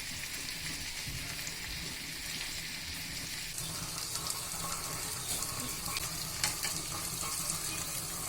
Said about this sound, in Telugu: ఇప్పుడు చికెన్ పీసెస్ని పెట్టి లో ఫ్లేమ్లో కొంచెం సేపు ఫ్రై